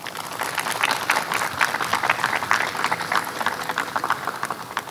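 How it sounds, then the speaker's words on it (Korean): An audience at the 13th Honbul Literary Award ceremony in Korea claps in sustained, dense applause that holds steady at a moderate level throughout. "따뜻한 위로의 박수 좀 부탁드리겠습니다"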